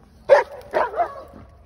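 Dogs bark a few times in separate loud woofs, with a softer fourth bark trailing off, heard close and clear over a quiet background.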